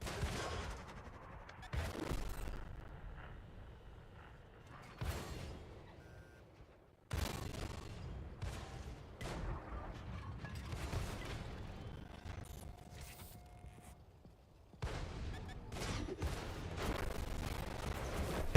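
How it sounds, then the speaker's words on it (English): Rocket barrages fired from a tank in World of Tanks console gameplay, a series of loud broadband blasts and booming volleys spread across the stretch with rumbling battle noise between them, no talk. "Unleash the rockets."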